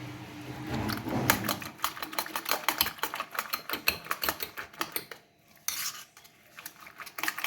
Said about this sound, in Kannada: ಈ ಥರ ನೀಟಾಗಿ ಬೀಟ್ ಮಾಡ್ಕೋಬೇಕು